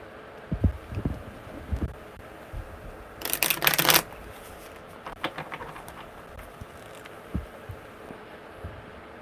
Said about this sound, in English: Okay, one more good shuffle.